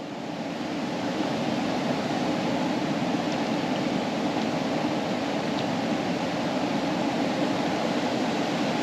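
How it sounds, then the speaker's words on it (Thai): A forest stream flows steadily nearby in a wooded area, a continuous broadband rush of water holding even and unbroken throughout with no voices. "ออกมาฟังเสียงน้ำไหลครับเพื่อนๆ"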